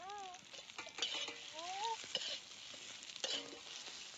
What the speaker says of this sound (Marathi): आता कांदा त्या तव्यात भाजाय घातलाय, त्याच्यात थोडस आलं, लसणाची एक कुडी सोलून घेतलेली, दालचीन आणि चक्री फूल ते त्याच्यात भाजून घेणार आहे.